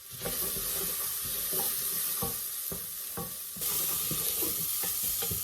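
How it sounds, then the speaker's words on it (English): Chopped onion with a pinch of salt fries in rapeseed oil in a pan, a loud continuous close-up sizzle punctuated by the knocks and scrapes of stirring, with no voices. "So I've just put some rapeseed oil in the pan and the onion and a little bit of salt"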